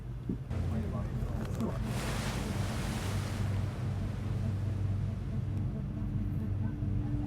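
Heavy waves battering a ship during a rough sea passage toward a very cold region, a constant loud roar of surf and wind against the hull, with a wash of spray surging in the first seconds.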